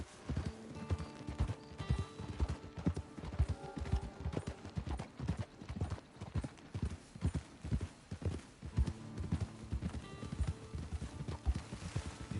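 Horse hooves clip-clopping in Red Dead Redemption 2, with a steady, fairly quiet, rhythmic trot of hoofbeats over a low background.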